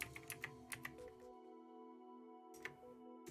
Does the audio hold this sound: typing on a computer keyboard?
yes